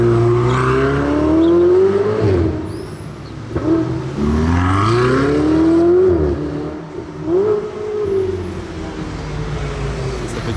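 Two red Ferrari 488s, a coupe and a Spider, rev hard as they pass by in Monaco, loud engine roars rising and falling in pitch over several surges, close and powerful, with no talk.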